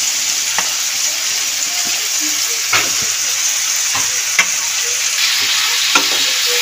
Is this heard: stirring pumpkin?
yes